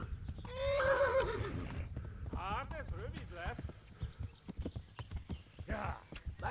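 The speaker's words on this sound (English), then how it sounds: "Go faster, horse." Horse in Kingdom Come: Deliverance, a medieval open-world game, neighing loudly up close and then clip-clopping in a rapid, steady hoofbeat rhythm, with a player talking over the hooves.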